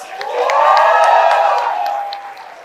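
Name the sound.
applause for graduating batchmates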